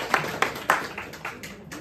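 Scattered hand claps from a small community audience applauding the organizers, a handful of distinct claps over a steady room background.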